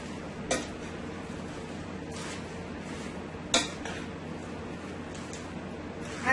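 Chow mein with spinach tossed in a pan, two sharp metallic clanks of utensil on pan standing out over a steady background hiss, fairly close.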